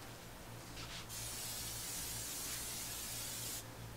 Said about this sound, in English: I'm going to spray those grates.